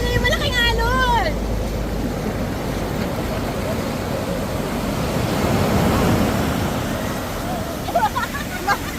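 Big ocean waves roll and crash in a rumbling surge off Malapad Real, Quezon, with wind gusting over the microphone and a person talking briefly at the start and end.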